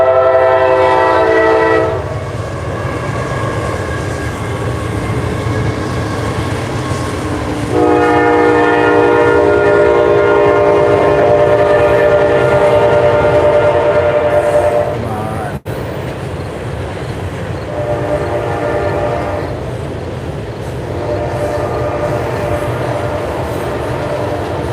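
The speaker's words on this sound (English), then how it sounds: "The train's a chug-a-lugging." A passing train sounds loud, sustained horn blasts near a fishing spot, three long horn calls separated by gaps, over a continuous low rumble of rolling railcars.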